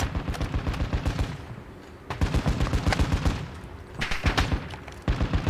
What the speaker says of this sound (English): Throwing a cluster mine.